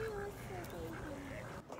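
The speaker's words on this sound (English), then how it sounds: "Scar, you like the ducks?" Ducks quack in a busy chorus at a park lake in Las Cruces, New Mexico, with overlapping calls of several birds at moderate distance against outdoor background noise.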